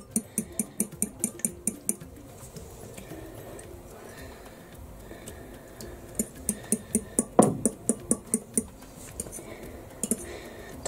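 Mustard oil whisked in a bowl for dal roti, quick bursts of rhythmic metallic ticking and scraping close up, pausing in the middle then resuming.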